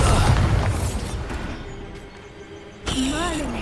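A Bombardo blasting spell in Hogwarts Legacy erupts in a loud booming burst that rumbles and fades out, followed by a quieter lull and then a voice speaking over renewed game noise.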